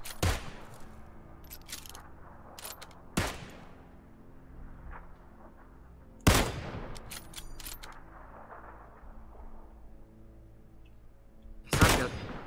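Four sharp gunshots from the video game PUBG crack out at spaced intervals, each echoing and rumbling away over a low, steady background hum.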